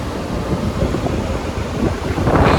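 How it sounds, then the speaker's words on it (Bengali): Strong wind blasts across the microphone at the Eisenhower Lock as a ship passes, a loud, continuous roaring rush with water churn beneath, swelling toward the end. "ইস কি হাওয়া দিচ্ছে"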